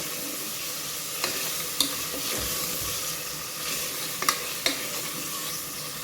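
Mutton with onions and curry leaves sautés in a pan for seppakizhangu mutton kuzhambu. A steady frying sizzle continues throughout, broken by a few sharp clicks of a spoon stirring against the vessel.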